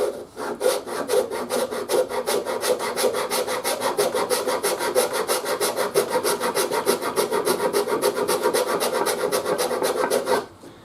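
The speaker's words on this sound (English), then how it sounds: "The Shinto makes short work of any wood carving." A Shinto rasp carving the wood of a handmade bass guitar body, steady rapid back-and-forth rasping strokes for about ten seconds, close and loud with no talking.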